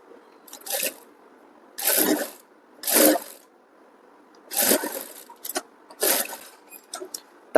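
A sewing machine stitches a size 38 tucked blouse in about six short motor bursts, each a second or less, separated by quiet pauses, close and fairly loud.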